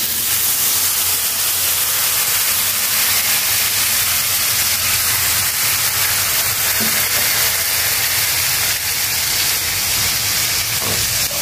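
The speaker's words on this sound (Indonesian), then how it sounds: "Saya akan tumis dia sehingga naik bau. Lepas ni saya masukkan sedikit air." Loud, steady frying hiss with sizzling crackle from ingredients being sautéed in a pan, then steam and sputter as a little water goes in, continuous throughout with no voices.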